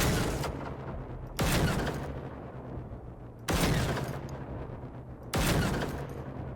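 Gunfire in the video game Generation Zero, with three loud shots spaced a couple of seconds apart, each followed by a long rumbling decay.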